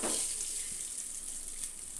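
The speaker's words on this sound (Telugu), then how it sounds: "ఇందులో ఇక మనము వాటర్ యాడ్ చేసుకుందాము." Water pours into a pot of biryani rice as a soft, steady, hissing rush that holds evenly throughout, fairly faint and with no speech.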